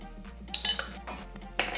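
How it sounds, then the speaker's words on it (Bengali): A utensil scrapes and clinks against a pan while spices and tomato are stirred together for matar paneer, making several short metallic knocks over a low steady cooking hiss. "সব কিছুকে মিশিয়ে নেব।"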